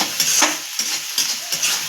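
Onion frying toward golden in a pan with chili powder, ginger and garlic, sizzling steadily while a spoon scrapes and stirs in quick repeated strokes, close and fairly loud, with no voices.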